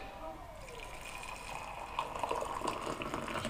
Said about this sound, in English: So I'll boil some water in the kettle, and basically